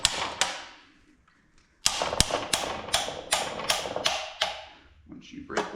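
A box end wrench works the nuts on a John Deere Dubuque two-cylinder 420/430 tractor engine during disassembly: close, sharp metallic clicks and ratcheting ticks come in irregular bursts, with a short quiet gap near the start.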